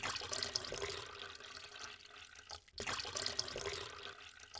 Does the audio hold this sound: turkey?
no